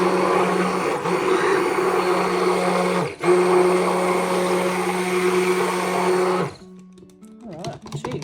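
A stick blender whirs through thick Bulgarian rose soap batter, a steady loud motor hum for about six seconds with one brief dip midway, then cuts off as scraping and handling noises follow.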